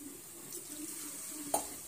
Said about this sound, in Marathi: त्यामुळे थोडे आणखीन पाणी घालत आहे